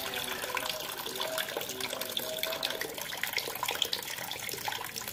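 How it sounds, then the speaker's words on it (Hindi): Tap water runs steadily into a container at home, a continuous close splashing rush that fills the whole stretch without pause. "इसमें भरते हैं जी पानी"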